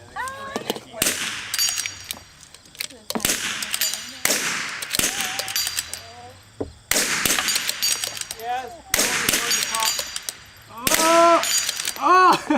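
Rifle shots crack sharply and repeatedly in clustered bursts at a precision rifle club dueling tree match, each report followed by ringing metallic plate hits, with people talking between volleys.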